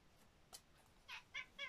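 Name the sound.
cat meowing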